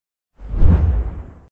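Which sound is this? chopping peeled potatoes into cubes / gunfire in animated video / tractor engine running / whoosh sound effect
whoosh sound effect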